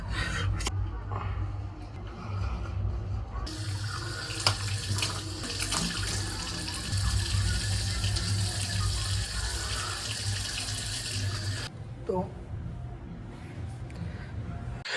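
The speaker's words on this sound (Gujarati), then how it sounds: "પહેલાં તો ફેસને પાણીથી વોશ કરી દેવાનું" Steady running water from a tap splashes continuously, with brief wet splashing sounds as hands scoop water to wash a face, close by and fairly loud.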